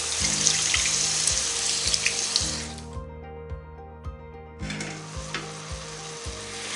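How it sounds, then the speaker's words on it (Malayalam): Water pours into a hot pan of spices for a Kerala fish pollichathu, a hissing rush with faint thuds underneath that stops midway and then resumes, with no talking. "ഇതിൽ നിന്ന് അരഭാഗം മാറ്റിയെടുത്ത് അതിന് ശേഷം ഇതിലേക്ക് 2 കപ്പ് വെള്ളം ഒഴിക്കുന്നുണ്ട്."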